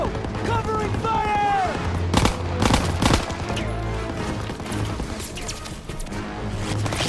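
Suppressive gunfire in Call of Duty WW2 during the Hill 493 campaign mission: several loud close rifle and machine-gun bursts crack out irregularly amid battle noise, with shouted voices over them.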